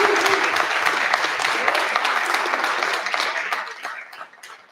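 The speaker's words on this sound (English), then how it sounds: "Yes, let's clap for them." A debate audience claps for the candidates, close and sustained, with individual claps audible in the mix before the applause tapers off near the end.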